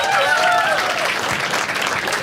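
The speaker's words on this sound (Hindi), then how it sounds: "एक बार इसके लिए ताली बजाओ सब लोग." An audience claps at a stand-up comedy show, a dense, steady round of applause from a crowd with no pauses, with a few faint voices in the mix.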